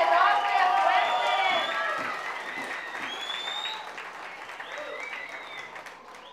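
Applause and cheering for the birthday girl, Magdalena Martínez, at her first waltz party, a dense crowd of claps with high excited voices, loudest at the start and tapering slightly as it continues.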